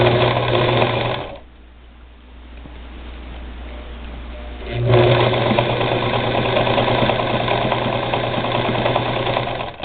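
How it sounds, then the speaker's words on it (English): A Singer Model 237 sewing machine stitches through four layers of denim, a loud, close, rapid mechanical hum and clatter that pauses briefly and then resumes at full speed. "And now here's 4 layers of denim, because I pieced some of those denim roads together, and it's just going to plow right through it."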